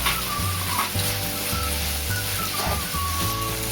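Green bean bhaji fries in a pan as crushed peanuts are added, a loud steady sizzle close by with rhythmic scraping strokes of a spoon stirring against the metal.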